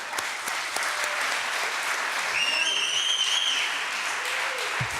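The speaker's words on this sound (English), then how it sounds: "Big round of applause to Assemblymember Santiago" Audience applause fills a political rally on clean elections for Assemblymember Santiago, a steady wash of clapping at moderate level lasting throughout, with a faint whistle-like tone partway and no talk over it.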